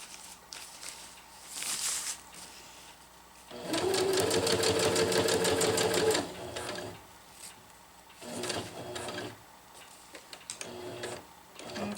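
A sewing machine sews a zipper onto a jungle hammock, a close, rapid mechanical chatter lasting a few seconds, followed by quieter fabric handling and shorter bursts of stitching.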